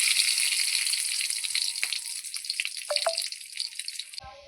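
Garlic dropped into a hot pan after mustard seeds gives a bright, close, steady sizzle. The hiss fades slightly over a few seconds, with a couple of small clinks, and cuts off abruptly near the end.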